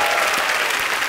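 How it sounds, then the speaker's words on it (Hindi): Loud, dense applause from a studio audience at a televised Hindi comedy talk show, a steady burst of clapping filling the whole short moment with no speech over it. "जोरदार तालियां।"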